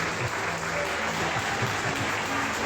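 A church congregation applauds steadily and loudly throughout a worship service, a dense wash of clapping.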